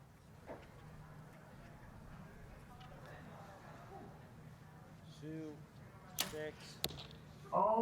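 A compound archery arrow in a women's gold medal World Cup match in Paris lands with sharp, brief thuds on the target, heard faintly under a commentator's talk and a quiet stadium murmur.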